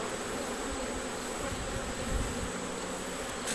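Honeybees buzz at an open hive being smoked during an inspection, a dense steady hum close by with faint handling knocks, no talk.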